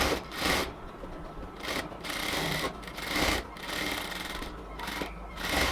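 A sewing machine stitches luxury cotton kameez fabric slowly, with short whirring bursts broken by brief pauses, close by and fairly quiet.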